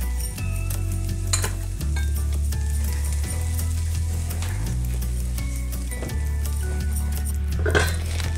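Masala powders hit hot oil in a pan for a Kerala-style sardine curry, giving a steady loud sizzle with spoon scraping and metal clinks, alongside a low tonal hum throughout.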